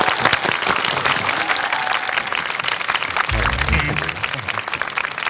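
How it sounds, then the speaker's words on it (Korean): Sustained audience applause of encouragement at a student mentoring event with a doctor, loud and dense throughout, with a brief low rumble partway through. "격려의 박수 부탁드리겠습니다."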